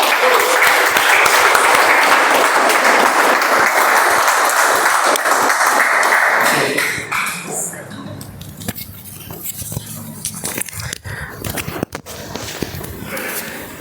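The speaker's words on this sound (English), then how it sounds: "I would like to introduce this person onto the stage with a huge round of applause with all of your energy." Loud, dense applause from an audience at a Toastmasters club meeting welcomes the day's toastmaster onto the stage. It holds steady for about six seconds, then drops away into scattered claps and light clatter.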